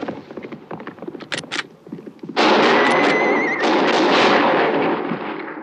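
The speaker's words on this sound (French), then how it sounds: "Où il s'oppose à Robert Ryan le temps d'une fusillade tendue" Gunfire in a tense film shootout: scattered sharp shots and thumps at first, then a sudden loud, sustained burst of blasts and rumbling that fills the rest of the scene.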